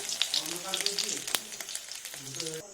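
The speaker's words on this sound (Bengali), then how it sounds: "বেশি ভাজবো না, পুরো হালকা হালকা করে ভেজে নেবো।" Egg fries in hot oil in a pan at home, a steady crackling sizzle with sharp pops and spits up close, a voice briefly audible underneath.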